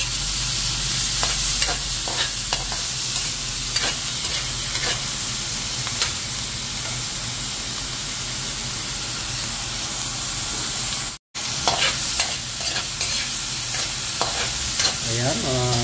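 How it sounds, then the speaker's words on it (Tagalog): Onion and tomato sauté in a pan, giving a constant strong sizzle and hiss with repeated stirring scrapes and a brief cut partway through; no one talks. "maluluto na yung sibuyas. And then isusunod niya ang kamatis."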